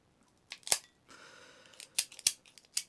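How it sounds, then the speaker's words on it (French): A cutter snipping the head off a cigar, a few crisp clicks and sharp cuts with a short rasp between, close and quiet, no talk. "On va couper la tête du cigare"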